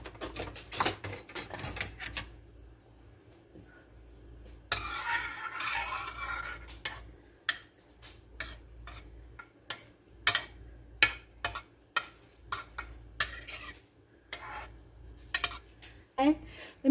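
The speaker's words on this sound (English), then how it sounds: "And we'll go ahead and stir this" A spoon stirs a chuck roast in a crockpot, making repeated clinks and scrapes against the pot in irregular bursts, with brief quiet gaps between them.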